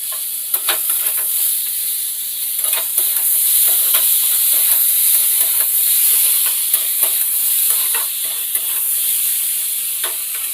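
Chopped tomato and ginger paste with salt sizzle and fry in a pan, a steady bright hiss broken by soft scraping stirs, close and continuous with no talking.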